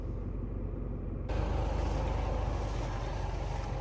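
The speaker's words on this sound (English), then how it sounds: "I'm just going to turn this car off, it's a bit noisy" A car engine idling steadily, a close low rumbling drone that grows noticeably louder and brighter partway through, with no voices.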